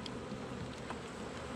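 Bees hum and buzz steadily around a brooding hive during an inspection, a dense, continuous drone close by with no voices.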